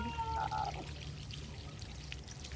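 Water is poured over a person's head during shampooing, a short close splash and trickle opening the clip, then fading to a soft dribble.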